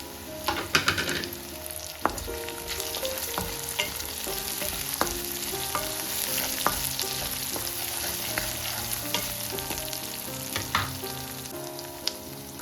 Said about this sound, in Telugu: ఆనియన్స్ వేసాక 1 మినిట్ ఆగి కరివేపాకు, పచ్చిమిర్చి, కొన్ని వెల్లుల్లి వేసేసుకుందాము.